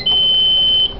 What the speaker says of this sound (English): So I'm clearing the memory.